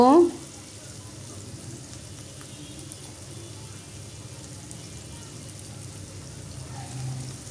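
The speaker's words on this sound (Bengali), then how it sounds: "এখন আদা রসুনের পেস্ট দিয়ে দিব।" Ginger garlic paste sizzles steadily in hot oil for a chicken curry, a loud opening burst easing into a continuous, even crackle of frying that carries on alone with no voices.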